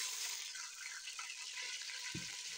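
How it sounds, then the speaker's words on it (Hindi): A little water goes into a hot pan of cumin seeds during home cooking, giving a steady frying hiss with a brief pouring splash near the end, close and faint. "थोड़ा सा पानी डालती हूँ"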